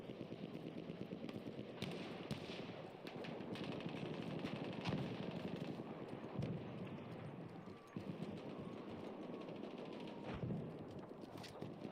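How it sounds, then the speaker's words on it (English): Enemy machine gun fire in Battlefield 1 rattles on continuously, fairly faint and distant, with scattered louder single shots over a busy battlefield din. "Enemy machine gun sighted."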